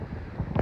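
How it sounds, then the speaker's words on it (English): Strong wind buffets the microphone outdoors in Colorado, a steady low rumbling roar that swells into louder gusts toward the end, with no speech over it. "it is so windy"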